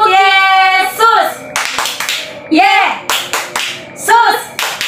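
Children at a Sunday school service clap in rhythmic bursts along to a chanted "clap Jesus" routine, sharp hand claps alternating with a leader's sung, chanting voice.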